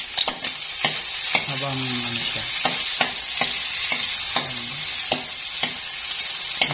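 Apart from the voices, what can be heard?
garlic sautéing in rendered chicken fat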